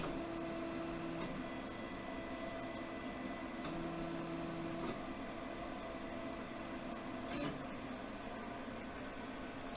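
A Crossfire PRO CNC plasma table moves its gantry on a dry run with no cutting, giving a faint, steady motor whir and hum whose pitch shifts in distinct steps as each move starts and stops.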